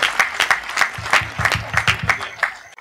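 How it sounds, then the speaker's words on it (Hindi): An audience at a Hindi comedy poetry gathering applauds to welcome the poet Sanjay Khattri, with brisk rhythmic clapping that is loud at first and then trails off near the end. "बहुत जोरदार तालियां बजाकर संजय खत्री को आमंत्रित करिए।"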